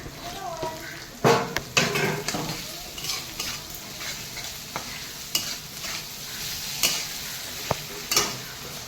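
Ground spices and mustard paste sauté in oil for a snail curry, under a constant sizzle with frequent loud clanking stirs and metal scrapes against the pan.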